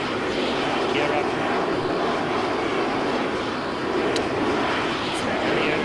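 A plane's aircraft engine in the Arma 3 video game drones steadily and loudly throughout, a dense, unbroken roar with faint higher clicks near the end.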